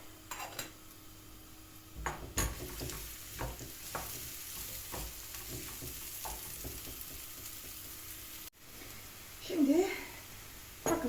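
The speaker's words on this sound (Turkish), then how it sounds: "soğanlarımız kavruldu. Kenarları pembeleşti." Onions sizzle and fry steadily in a pan, with occasional stirring scrapes and clinks of utensils; a brief louder clatter near the end.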